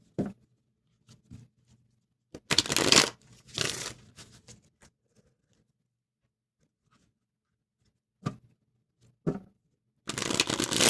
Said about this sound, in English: Do a regular shuffle here.